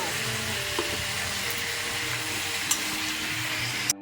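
Chicken pieces fry in a pan, giving a steady, close broadband sizzle that holds even throughout, with a couple of faint scrapes or taps and no voices.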